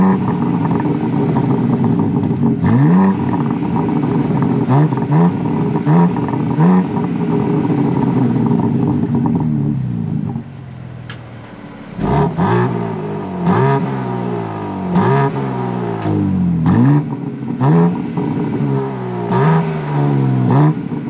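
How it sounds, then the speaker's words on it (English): A 2021 BMW M4 exhaust revs again and again, rising and falling loudly with a brief lull before the sharp blips resume. "why don't we do an exhaust clip"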